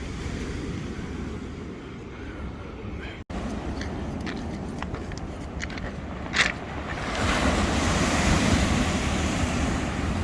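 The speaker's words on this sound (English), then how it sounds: "all this waves with no wind" Sea waves wash onto a pebble beach on a calm, windless Scottish coast near Montrose, a continuous rushing surf that swells louder toward the end, with no talk.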